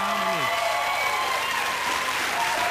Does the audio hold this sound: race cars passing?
no